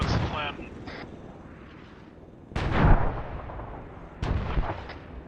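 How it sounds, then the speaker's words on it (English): Incoming mortar rounds at a military simulation fire base, with three heavy booming impacts whose deep rumbles trail off, the first under shouting voices. "Mortars! Mortars! Get to cover, get to cover."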